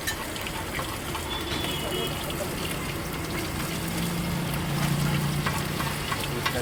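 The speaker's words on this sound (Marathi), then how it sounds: "हे बोंबील फ्राय आहेत, मी आता फ्राय करत आहे।" Bombil (Bombay duck) fish frying at a fish thali eatery in Pune: a steady, dense sizzle of hot oil holds close and continuous throughout, with some faint background activity under it.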